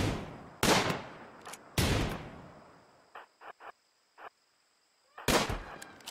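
Gunshots in RimWorld. Three loud, widely spaced cracks with fading tails ring out, with a few short, quieter pops between them over a steady faint high tone.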